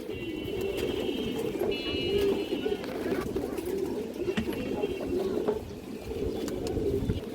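Silver line pigeons coo steadily in a loft, a continuous low rumbling chorus of several birds close by, with scattered chirps and faint background noise throughout.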